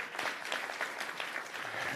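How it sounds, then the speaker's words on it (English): A town hall audience in Brooklyn claps for neighborhood coordination officers, thick continuous applause from many people at a steady moderate level throughout. "yes, please, give them a round of applause"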